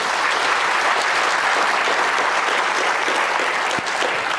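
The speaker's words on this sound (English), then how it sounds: "Give us a round of applause on that one" A convention audience in Las Vegas applauds, a dense, steady roar of many hands clapping at full loudness with no pauses.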